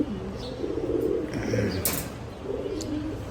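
A male Nazra Kaldom pigeon coos nearby in a few soft, low, rolling calls, with faint chirps and a brief flutter in the background.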